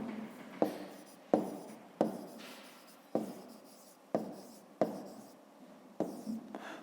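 A pen writes numbers by hand on paper, each short scratchy stroke starting sharply and fading, about eight strokes in an even, unhurried rhythm, close and quiet with no talk.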